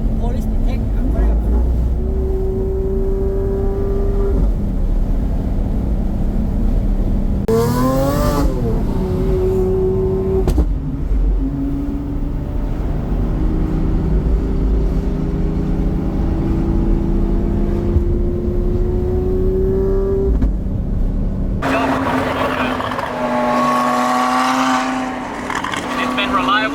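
Lamborghini Aventador SVJ with its V12 engine, loud and close from inside the cabin, droning steadily with rising revs, a sharp surge near the end, while people talk over it.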